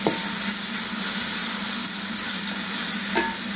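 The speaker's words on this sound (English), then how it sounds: "First of all, we'll add this onion. Saute it so that it turns slight brown." Onion sautéing in hot oil in a pan for malai kofta, giving a steady, loud sizzle and hiss with a faint scrape of stirring near the end and no talk.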